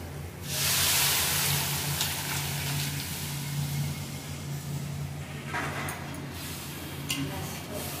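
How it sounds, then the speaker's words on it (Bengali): Dal poured into a pan of fried spice masala while cooking a Jamai Sasthi meal: a loud sustained hissing sizzle bursts up as the liquid hits the hot pan, then settles into steady bubbling hiss with a low hum beneath. "এখন ডালটা ঢেলে দেবো।"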